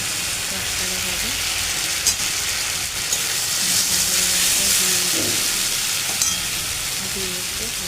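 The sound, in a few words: spices frying in a pan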